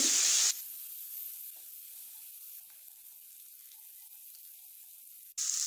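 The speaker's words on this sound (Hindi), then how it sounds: "लहसुन को हम गोल्डन ब्राउन कर लेंगे।" Garlic paste fries toward golden brown for mutton liver masala, opening with a loud sizzle that drops to a quieter steady hiss before flaring loudly again at the end.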